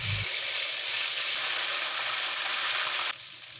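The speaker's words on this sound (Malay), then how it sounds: "Panaskan minyak, masukkan ikan yang kita letak sambal tadi ya." Fish coated in sambal sizzles steadily in hot oil, a loud continuous crackling frying hiss that drops noticeably near the end.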